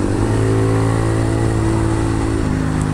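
A Honda MSX 125 motorcycle engine runs close by, a loud steady mid-pitched drone with a slight pitch drop near the end, no voices.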